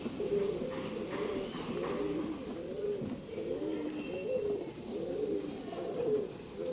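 Pigeons coo steadily and close by in a repeating rolling rhythm, several calls overlapping one another, with faint background noise underneath and no voices.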